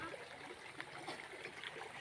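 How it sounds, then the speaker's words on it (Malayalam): Spring water seeping up from the ground in a steady, quiet trickle with soft gurgling, faint and continuous throughout with no voices. "ഇതാ കണ്ടോ ഉറവ് വെള്ളം വരുന്നത്?"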